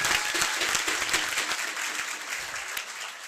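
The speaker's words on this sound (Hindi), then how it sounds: "सभी के लिए एक बार दिल से जोरदार तालियां हो जाए" A school staff appreciation moment at a Haryana coaching gurukul brings dense, steady applause from a large audience, with clapping that holds strongly throughout and eases slightly toward the end.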